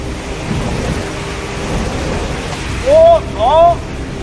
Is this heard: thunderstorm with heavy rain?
yes